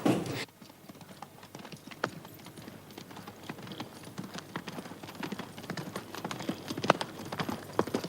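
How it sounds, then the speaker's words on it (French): Two horses' hooves clip-clop in an irregular, brisk rhythm of crisp knocks at moderate distance, continuing steadily throughout with no voices. "Préparez-vous à m'accompagner, faites les 2 chevaux, Gauthier."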